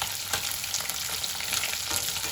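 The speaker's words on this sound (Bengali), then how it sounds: "মাছটা প্রায় ভাজা হয়ে এসছে আর একটু আমি লাল লাল করে ভাজবো" Tilapia pieces frying in hot oil in a pan, a close, steady crackling sizzle that holds an even level throughout, with no talk.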